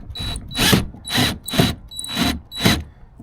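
A power drill drives screws into a kayak transom mount for a trolling motor, in five or six loud, close, whirring bursts of about half a second each, with short pauses between.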